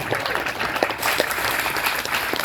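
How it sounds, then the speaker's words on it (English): An audience at a food security and sustainability event applauds steadily, a dense, even wash of many hands clapping close by that runs for the whole stretch with no pause. "give a big clap of applause to yourself"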